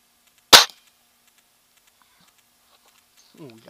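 An air rifle fires a pellet at a tire target outdoors, a single sharp close crack followed by near silence, then a voice speaks briefly.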